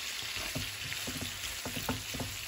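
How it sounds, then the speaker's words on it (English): Garlic sautéing in a pan alongside nearly cooked shrimp, a soft steady sizzle punctuated by rapid rhythmic taps and scrapes of a utensil stirring, no voices. "This is gonna add some garlic to this. And let it saute down."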